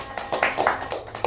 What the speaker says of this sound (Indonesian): tepuk tangan untuk Meta